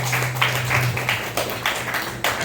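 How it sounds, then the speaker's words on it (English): An audience claps for a presenter at a startup demo day, with bursts of hand claps sounding fairly close and continuing for a couple of seconds. "we will give Tristan a big round of applause"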